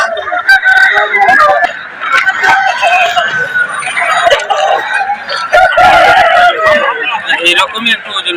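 Roosters crow at a busy Kharika chicken market, with clucking fowl and a steady hubbub of voices throughout; several calls rise loud and near over the crowd noise.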